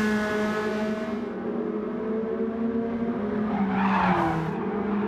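A Nissan Silvia S15 slides through a turn in Gran Turismo 7, the racing engine drone joined near the end by a brief rising tyre squeal as the rear steps out.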